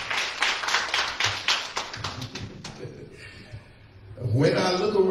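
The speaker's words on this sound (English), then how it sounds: "Let's give the Lord a hand clap of praise." A church congregation claps in praise, a burst of quick hand claps up front that thins into scattered claps, followed by a voice speaking near the end.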